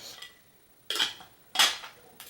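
A 22-ounce metal cook pot being handled, giving two or three short metallic clanks and rattles, close and fairly soft, with quiet gaps between them.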